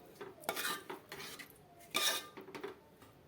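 A spoon scraping and clinking against a pot as chopped green coriander is stirred into a potato and onion curry, with a few soft, uneven strokes close by and no talking.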